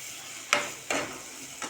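Tomato and fenugreek leaf curry being stirred in a pan over a low flame, three soft scraping strokes over a faint steady sizzle, close and fairly quiet.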